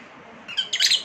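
A newly hatched pet bird chirps outdoors, a few bright, high-pitched calls building into a quick, busier burst of tweets in the second half, fairly close and with no voices.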